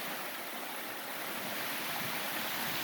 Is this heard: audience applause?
no